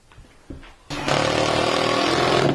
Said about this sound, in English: I'm making sure I countersink them so I don't have any spots where the screw head's going to pop up.